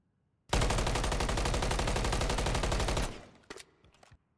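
A sustained full-auto burst from an MCW rifle in Modern Warfare III, rapid, evenly spaced shots hammering loudly for about two and a half seconds, followed by a few short trailing clicks and thumps.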